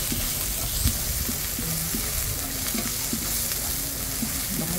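Onion and garlic frying in a pan over high heat for lomi, a steady loud sizzle throughout with occasional clinks and scrapes of stirring.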